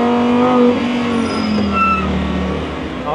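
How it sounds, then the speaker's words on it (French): The 640-horsepower V10 of a Lamborghini Huracan STO-based ABT XGT drones loudly from inside the car, pitch sliding and rising smoothly as it pulls on a narrow road. "on a les 640 chevaux de Lamborghini. Et là, on a la progressivité du V10, là, c'est extraordinaire. Et cette sonorité"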